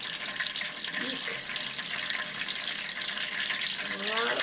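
A deep-fried homemade egg roll lifted from hot oil, the oil hissing and crackling steadily with dripping and sizzling throughout, growing slightly louder at the end.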